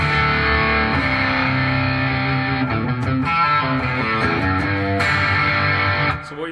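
Enya Sonic JT electric guitar played through an amp with gain dialed up, picked up by a camera mic: a continuous, loud, saturated distorted tone with shifting chords and notes, no talking.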